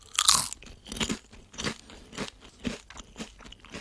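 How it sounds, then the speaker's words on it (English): Crisp, close crunching of leftover chips being chewed, with a loud bite at the start followed by a steady run of about six rhythmic munches, no talking. "I grabbed some leftover chips from lunch to munch on."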